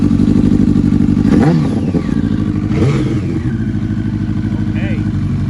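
A wrecked Yamaha R1 motorcycle engine cranks and catches, then revs in two quick blips over a steady idle rumble, loud and close, while people talk nearby.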